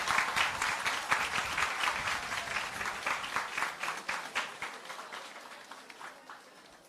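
Roughly a thousand high school students in an assembly hall applaud a visiting prime minister, a thick sustained roar of clapping that gradually thins into scattered individual claps toward the end.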